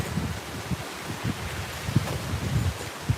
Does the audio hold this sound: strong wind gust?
yes